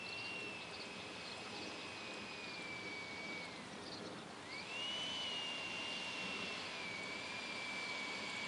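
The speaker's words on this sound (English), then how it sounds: "Sure is one nice jet" A 70mm EDF foam biplane jet flying, its electric ducted fan giving a steady whining whir that dips briefly, then rises and holds at higher pitch, heard from a moderate distance with no talking.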